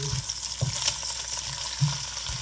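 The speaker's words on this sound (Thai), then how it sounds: "ลวนหมูสามชั้นก่อนให้เขาได้น้ำมัน" Pork belly being stir-fried in a pan to render its fat, a steady close sizzle with a few soft scrapes and knocks from stirring.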